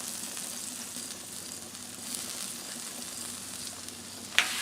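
Butter sizzles steadily on a hot Blackstone griddle for a chicken quesadilla, a continuous close frying hiss, with a small sharp tap near the end.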